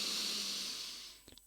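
A drawn-out breath is pulled in through the nose, a soft airy hiss that fades gradually, followed by a few tiny sniffing clicks at the end, close and quiet.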